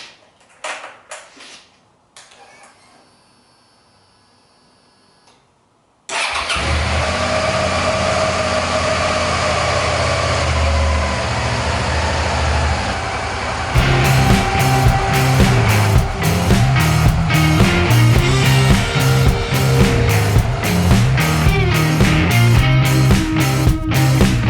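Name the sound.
Suzuki SV650S motorcycle engine test start after winter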